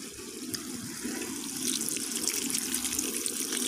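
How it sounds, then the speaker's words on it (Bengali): Water being poured into a pot of chicken and potato curry, a steady close pouring and splashing that grows slightly louder partway through and continues unbroken. "এবার জল দিয়ে দেবো"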